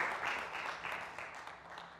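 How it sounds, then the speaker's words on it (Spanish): Seated audience at a Spanish-language productivity-week conference panel clapping, a modest, somewhat distant round of applause lasting a couple of seconds at moderate level. "Le brindamos un aplauso también a nuestra audiencia que está acá"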